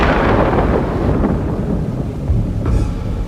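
Deep, continuous rumbling roar of B-2 bomber and F-35 fighter jets passing overhead in the sky above the White House, loud and sustained with no breaks.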